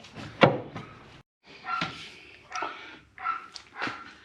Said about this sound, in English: Your dog's barking and stuff.